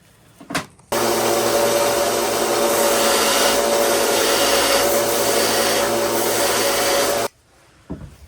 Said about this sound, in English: now we're going to be sanding it down and making heads here and here